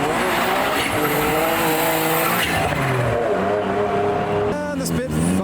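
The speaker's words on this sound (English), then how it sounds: "Noises from the Cappuccino with the Spitfire behind, the 2 smallest cars of the meet." A tiny Suzuki Cappuccino pulls away at a night car meet with a Triumph Spitfire following close behind, engines droning loudly and steadily with a rising rev toward the end, crowd noise around them.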